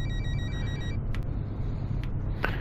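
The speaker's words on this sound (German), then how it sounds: "mach dein scheiß Telefon aus, sonst fliegt aus dem Fenster" An electronic phone ringtone sounds inside the Fernbus Simulator bus game for about a second, then stops while the low steady engine drone of the coach continues with a few faint clicks.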